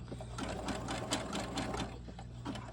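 Close, continuous whir of a sewing machine stitching a small doll T-shirt, with a steady rhythmic needle pulse throughout.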